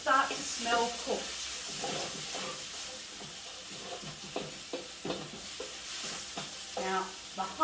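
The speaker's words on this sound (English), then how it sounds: "So we're going to fry that off for about 2 minutes." Sambal spinach stir-fried in a wok, with a steady sizzle and repeated scraping, stirring strokes of the spatula; no voices can be made out.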